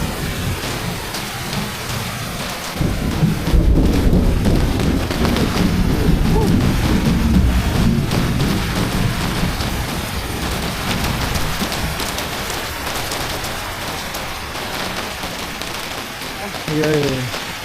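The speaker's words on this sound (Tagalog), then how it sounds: "kulog-kulog pa." Very heavy rain pours down in a steady broadband roar, swelling louder after a few seconds, with low rumbling thunder mixed in; a voice speaks briefly near the end.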